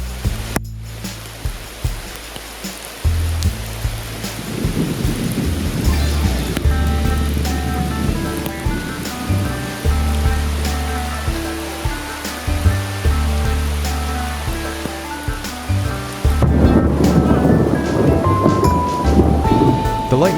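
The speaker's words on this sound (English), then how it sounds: "The lightning was about 5 miles away, but the thunder sounded like it was right above our heads." Thunderstorm in a Red River Gorge forest, steady rain hiss with low rumbling thunder rolling through, swelling louder toward the end; no talk over it.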